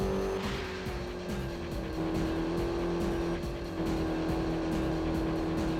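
A car drifting in the racing video game Road Rage 3, a loud continuous engine roar with a droning pitch and brief tire-squeal swells, with no talking.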